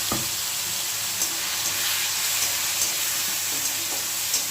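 A tomato and green chili masala hits fish frying in a pan, giving a loud, steady, close sizzle with faint stirring clicks throughout.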